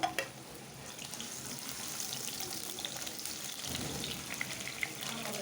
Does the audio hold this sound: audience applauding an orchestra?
no